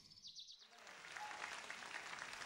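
An audience applauds a ballet performance by a Tucumán ballet troupe, a dense, steady clatter of many hands that swells in after a brief high chirping sound and holds moderately loud to the end.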